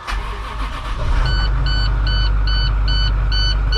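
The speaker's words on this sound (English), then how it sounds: "You hear the brake booster pumping up." A 2011 International 3200 RV starts up and its engine settles into a loud, steady idle, with a brake booster pump whirring underneath and a repeating electronic warning beep pulsing throughout.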